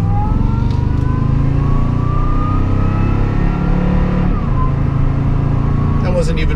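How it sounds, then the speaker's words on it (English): Toyota Tundra pickup truck, a heavier truck than the Tacoma, accelerating under throttle, its engine a loud continuous drone that climbs steadily in pitch from inside the cab. "how much more throttle response this truck has"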